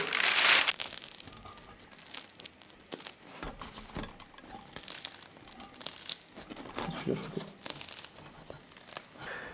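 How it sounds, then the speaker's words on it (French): Freshly baked baguettes lifted and peeled off parchment paper, giving repeated close crinkling and tearing paper rustles with soft crusty crunches, loudest in a burst at the start and recurring throughout, with no talking. "je vais un peu les décoller du papier sulfurisé pour qu'ils puissent sécher un petit peu"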